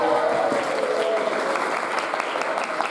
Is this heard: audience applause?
yes